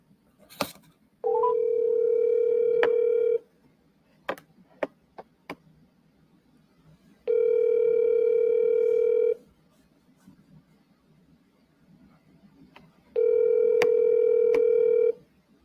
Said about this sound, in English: Let me get Josh on the phone.